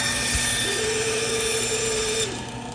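A band saw runs with a steady mechanical hum and high whine while cutting a wooden board for a cornhole set. A brief lower tone enters mid-cut, then the sound tapers off at the end.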